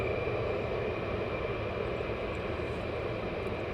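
A military aircraft lands on runway 28 at Mildenhall, a steady, broad engine roar that holds at an even loudness for a few seconds with no voices over it.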